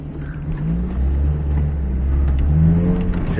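Game car engine approaching from behind and revving, a steady mid-low drone with rising pitch sweeps, fairly loud throughout.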